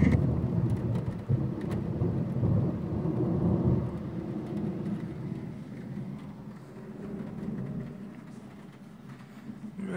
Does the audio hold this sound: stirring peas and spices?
no